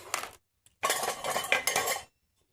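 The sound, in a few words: mixing dry pancake ingredients in a bowl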